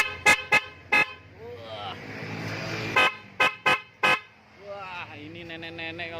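A snail-shell horn built from a Khong Guan biscuit tin and mounted on a motorbike blasts several short, loud toots in a row, with brief sustained honks and someone talking in between.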